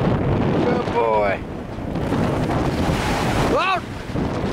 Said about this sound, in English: It's so damn windy.